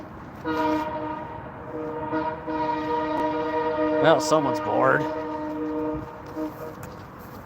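A loud, sustained train horn sounds at a train station, holding a steady chord for several seconds before cutting off. A voice briefly speaks partway through.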